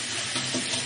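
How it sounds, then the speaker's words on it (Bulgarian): Rice being rinsed under a running kitchen tap, a brief steady splash and hiss of flowing water with small fluctuations as the grains are stirred, close and alone. "да се промива и когато водата отдолу потече е чиста, вече не е така мътна"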